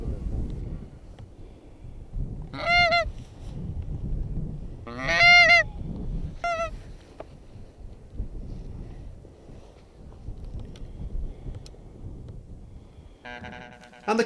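Wild geese honk in bursts on Orkney during goose shooting at dusk, several loud calls answering decoy calling, over gusty wind noise and faint low rumble.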